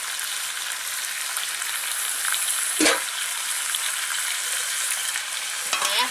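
Potato pieces fry in a pan of hot oil, giving a constant bright sizzle, with a couple of brief scraping stirs breaking through partway in.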